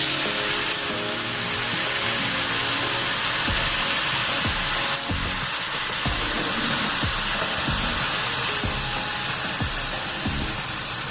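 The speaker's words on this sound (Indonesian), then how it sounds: "Kita masukkan santannya." Coconut milk goes into a pan of frying spice paste for nasi lemak, giving a loud, continuous sizzle and crackle with scattered pops throughout.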